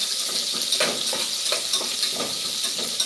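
Onions frying in hot oil with spices while cooking rice bath, a steady close sizzle with light stirring scrapes throughout, no talk.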